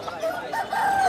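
A rooster at a busy chicken market in Mirpur-1 crows once, close and loud, in a drawn-out call lasting about a second against a faint market background.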